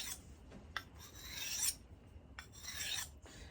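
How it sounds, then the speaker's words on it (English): A Bowie knife blade is sharpened with quiet rasping strokes, two longer scraping passes and a few short ticks, heard close with no talk. "this is how I go about sharpening a knife"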